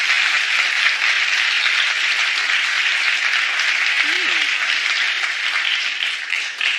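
A studio audience at a daytime talk show breaks into dense, sustained applause, loud and even throughout, with a brief voice cutting through near the end.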